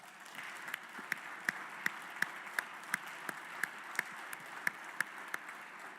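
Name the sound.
applause in legislative house floor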